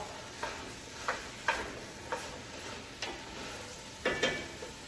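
Onions and tomatoes being stirred in a pot for sweet potato chili, giving soft scraping strokes about once a second with a gentle sizzle running underneath, close and fairly quiet.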